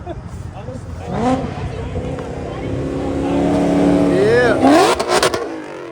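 A sedan revving hard with a loud rolling exhaust at a competition, its engine climbing and surging over crowd chatter, with people talking nearby throughout.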